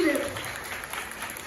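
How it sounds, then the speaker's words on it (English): Steady applause from an audience at a makeup masterclass honouring makeup artist Samaira Sandhu, a dense even wash of clapping at moderate level throughout, with a brief voice at the very start. "Can we have a huge round of applause for the artist here, Samaira Sandhu?"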